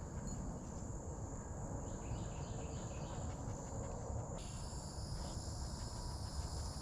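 Cicadas in a wildlife preserve drone in a steady high-pitched buzz over a low, rumbling woodland backdrop, continuous and moderately loud throughout without any speech.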